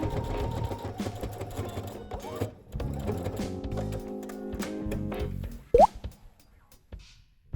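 Sewing machine stitching an apron's facing in place, a steady close mechanical whir of the needle running for several seconds, then a brief squeak and a few small clicks as the stitching stops.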